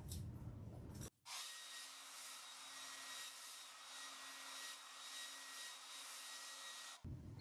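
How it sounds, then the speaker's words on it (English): A hair dryer blows steadily on a foil-transferred gazing ball for about six seconds, a loud, even whooshing roar that cuts in sharply and stops abruptly, with brief handling noise before and after. "So we'll blow dry it real quick."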